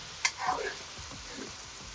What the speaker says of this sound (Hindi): अब देखो 2 मिनट तो आलू को मैंने भून लिया।